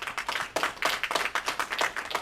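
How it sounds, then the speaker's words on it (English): Scattered clapping from a small group at a political meetup, uneven and brief, with individual claps standing out rather than a full roar. "Applause for those folks,"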